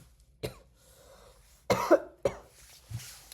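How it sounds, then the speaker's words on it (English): Several short, close coughs come in uneven bursts, with a cluster of two harsher ones in the middle, in an otherwise quiet room. "Can't control my coughs."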